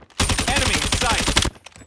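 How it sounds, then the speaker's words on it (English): Rapid automatic gunfire from Call of Duty multiplayer bursts loud and close in a dense, continuous volley lasting just over a second, then cuts off abruptly. "I got shot!"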